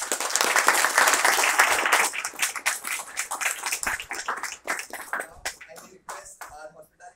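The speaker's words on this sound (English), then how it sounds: "let's have a round of applause for Sivanandan." A hall audience at a police guest lecture breaks into dense clapping that thins into scattered claps over several seconds.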